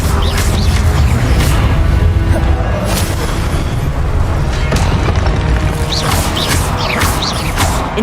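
Confringo explosion spells cast in Hogwarts Legacy, heard as loud, continuous, booming blasts and crashes that pile on one another without a break.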